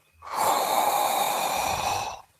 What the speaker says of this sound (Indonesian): Tahan, tarik napas